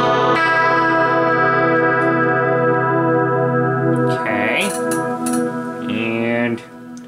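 A sustained electric guitar chord rings out with a short roomy reverb from an amp's room reverb setting, then a couple of quick bent notes and strums, loud and close, with no talking.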